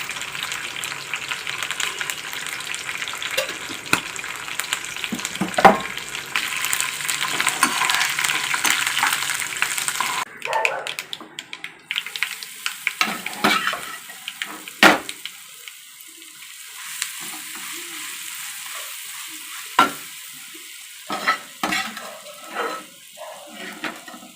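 Curry leaves and tempering spices fried and stirred in hot oil for gongura (sorrel leaf) pickle, a steady loud sizzle for the first ten seconds, then quieter crackling with scattered scraping stirs of a spoon in the pan.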